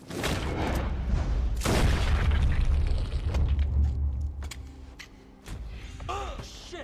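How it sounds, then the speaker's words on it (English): A gunshot fired in the Red Dead Redemption 2 western game: a loud booming blast with a rumbling tail that fades over several seconds, followed by quieter thumps and a brief voice-like sound near the end. "c'est un coup de feu"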